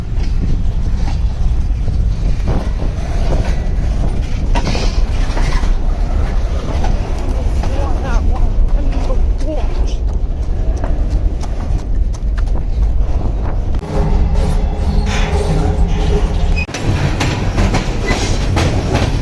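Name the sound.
moving freight train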